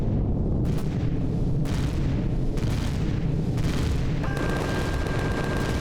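Cannon fire in the space survival video game Empyrion Galactic Survival, a dense, continuous barrage of booming blasts with repeated heavy thuds and a faint tonal whine near the end, no voices.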